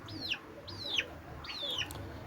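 Peruvidai country chickens, young birds raised on a farm, give three rising-falling clucks and calls close by over a low murmur of background noise.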